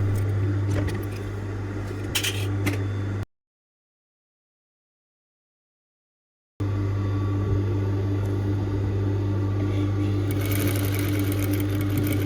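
A sewing machine hums steadily while stitching a jumpsuit pocket hem, running in a continuous close whir that stops abruptly for a few seconds of silence, then resumes at an even pace.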